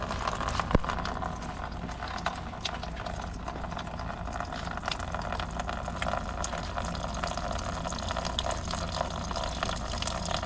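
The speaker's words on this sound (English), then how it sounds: "Let the oil drain." Motor oil drains from a car engine into a pan in a steady, faint, continuous trickling stream with no talk.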